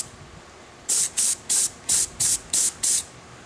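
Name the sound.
spraying Duracoat finish onto Ruger 10/22 parts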